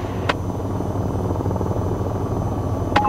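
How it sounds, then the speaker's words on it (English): The AH-94 helicopter in the flight game VTOL VR idles with its engine running, a steady low droning hum with faint rotor pulsing and two brief clicks. "At this point, the helicopter is ready to take off."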